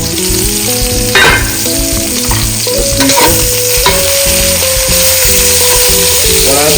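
Beef ribs for a brown stew sizzle loudly in a hot pan while being stirred and tossed, a dense close frying hiss broken by scraping and clinking utensil strokes throughout.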